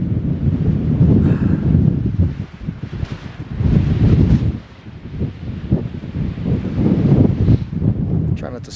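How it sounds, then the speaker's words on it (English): Strong gusting wind in open Wyoming country buffets the microphone in heavy low roaring surges throughout, broken by brief lulls, with voices talking faintly underneath. "Yeah, you gotta love this wind though."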